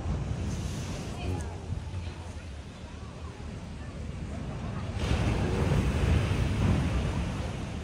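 Steady rushing surf on the sea coast at Narathiwat, Thailand, with wind buffeting the microphone before rain, the waves swelling louder toward the end.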